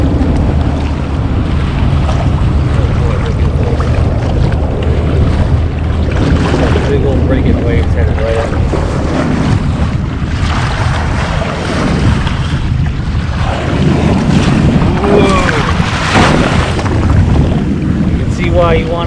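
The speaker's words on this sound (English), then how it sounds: "It has created a massive wake." A large boat's wake rolls past a fishing kayak on the ocean off Newport Beach, a loud, continuous wash of surging water and wind rumble that builds in rolling swells throughout.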